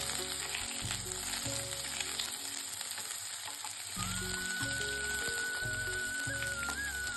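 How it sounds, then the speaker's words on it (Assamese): Onions sizzle steadily in hot oil with panch phoron and bay leaves for an Assamese duck curry, a close, continuous frying hiss with faint stirring and no voices. "এতিয়া পিঁয়াজখিনি ৰঙচুৱা হোৱালৈকে ভাজি ল'ম।"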